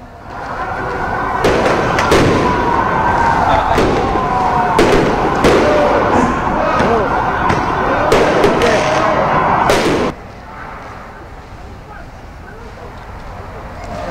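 Sharp bangs and pops of firecrackers burst repeatedly through a loud, roaring protest crowd near a parliament complex for about ten seconds, then cut off to quieter background noise.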